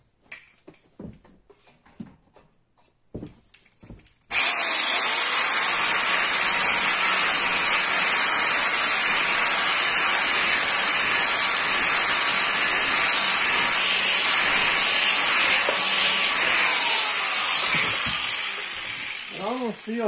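A gravity motor is plugged in and spins up to a loud, steady high-pitched whir and hiss that holds for about fifteen seconds, then fades at the end. A few soft clicks and handling taps come before it starts.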